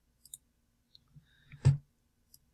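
Sparse, faint mouse clicks at a computer while working in Microsoft Access, a few isolated taps and one firmer click in a quiet room.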